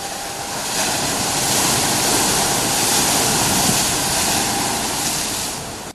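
Rough sea surges against the coast at Kozhikode during sea erosion after summer rain, a loud, steady broadband roar of crashing surf with no voices.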